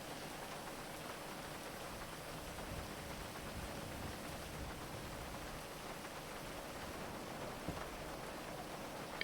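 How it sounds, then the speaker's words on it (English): Rain falls in a steady, soft hiss, an even wash of pattering drops that holds at a constant low level throughout with no voices. "I don't mind the rain. I like the rain."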